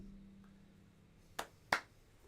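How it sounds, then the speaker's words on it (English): A few sharp hand claps, three crisp separate smacks spaced unevenly over about a second near the end, loud against a quiet background. "I clapped for you"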